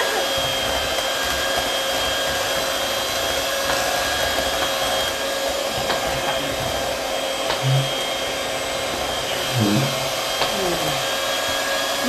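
An electric mixer whirs steadily through the whole stretch, beating a chocolate strawberry trifle at a family kitchen table, a continuous loud motorised drone with a few brief knocks and bumps near the end.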